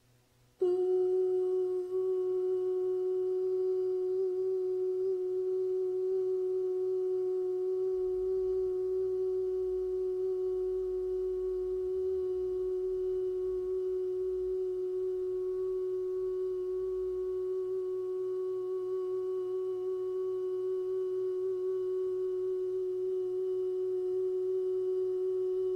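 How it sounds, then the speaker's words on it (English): Emergency broadcast system test tone, a single steady pitched tone held for the whole stretch after a brief silent start, loud and unbroken, with a faint low rumble underneath. "When you hear that kind of tone on a television, it's usually accompanied by color bars."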